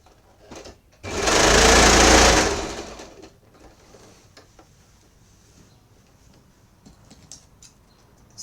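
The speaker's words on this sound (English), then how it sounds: "So I'm going to be sewing this here like that." A sewing machine stitches scrunchie fabric in one loud burst of about two seconds, the whirring run fading out, with faint handling noises before and after.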